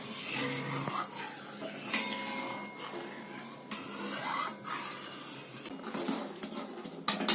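Milk payesh for a nolen gur recipe is stirred without pause in a pot, with scraping and clinking of the spoon against the metal in uneven strokes, close and fairly quiet.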